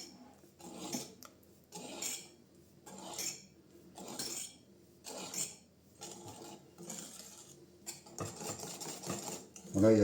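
Cannelé batter being poured and stirred in a bowl, a utensil scraping and clinking in regular rhythmic strokes, fairly quiet and close, with only faint talk.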